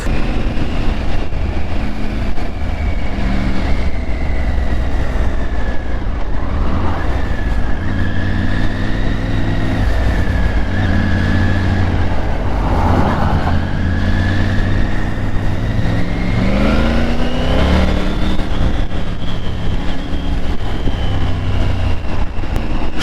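A Triumph Tiger 900 Rally Pro motorcycle engine runs loud and close throughout, its pitch rising and falling as it revs and shifts through gears.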